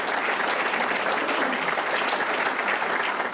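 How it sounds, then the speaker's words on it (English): An audience at a political speech on fighting gun violence breaks into sustained applause, dense and even clapping that stays loud throughout with no voices above it. "Give her a round of applause."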